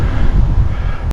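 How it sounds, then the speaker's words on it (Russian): Strong gusting wind roars loudly across a microphone while cycling slowly downhill outdoors, a close, heavy rumbling buffet that cuts off abruptly at the end. "Очень ветрено."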